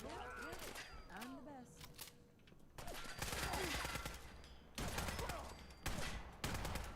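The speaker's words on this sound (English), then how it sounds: "Those shotguns are pretty devastating at this range." Shotgun blasts from Fallout 4 combat boom in several loud, broadband bursts spread across the stretch, with people talking over and between the shots.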